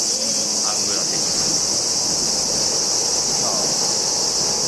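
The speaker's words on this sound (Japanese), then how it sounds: "ここはなかなかセミシャワーです。" A dense outdoor chorus of cicadas shrills continuously and loudly in summer, with faint voices barely present beneath it.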